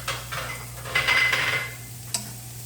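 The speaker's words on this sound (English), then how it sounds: "The idea with the wok is you're moving them around." Garlic being stirred and tossed around a wok during fried rice cooking, with soft scraping and a few metallic clinks, one sharper knock near the end, over a steady background hum.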